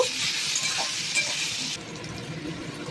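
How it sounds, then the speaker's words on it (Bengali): Potatoes and green peas frying in leftover oil in a pan, a steady close sizzle with occasional stirring scrapes, the hiss easing partway through. "রয়ে যাওয়া তেলে আলু ও কড়াইশুঁটিগুলো ভাজতে দিলাম।"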